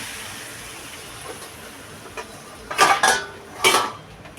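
A lid goes onto a cooking pot of fish head with ash gourd greens, giving two close metallic clanks, then a third clink after a short pause, over a faint background hiss.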